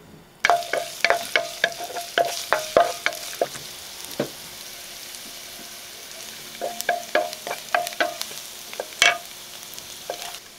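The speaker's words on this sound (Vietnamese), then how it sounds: "Cho vô một ít dầu. Và cho vào 1 muỗng cà phê hành tỏi băm vào phi thơm." Minced shallot and garlic sizzle and crackle in hot oil, with quick bursts of stirring and clinking as a utensil scrapes the pan, pausing briefly midway.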